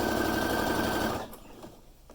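A sewing machine runs steadily, stitching all the way around a fabric scrunchie, then stops abruptly partway through, leaving a quieter room with faint handling noise.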